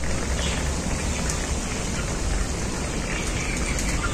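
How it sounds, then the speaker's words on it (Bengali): Spiced fish gravy boils hard in a pan, a dense continuous bubbling and crackling hiss, close and steady throughout with no talking. "ঝোলটা খুব ভালোভাবে ফুটে গেছে"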